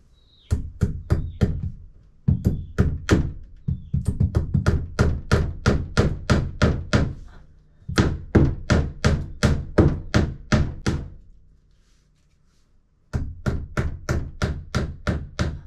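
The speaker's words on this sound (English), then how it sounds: "this door wants to open every time I bang on this wall" Repeated loud banging on a wall during home renovation work, fast runs of sharp, close, hammer-like knocks broken by brief pauses, one longer silence, then a final run.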